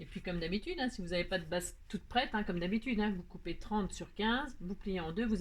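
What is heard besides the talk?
No everyday noises stand out.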